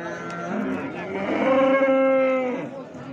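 A cow, a mother with calf at a livestock market in Vobkent, Bukhara, gives a long, drawn-out moo, rising and holding before tailing off, close by with no talking.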